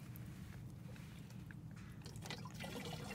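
Water pours steadily into a container of antifreeze coolant concentrate, a continuous trickling gurgle up close that grows slightly fuller toward the end.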